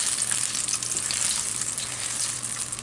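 Meatballs fry in a pan of hot oil, giving off a dense, continuous bubbling hiss that stays loud and even throughout, with no voices over it.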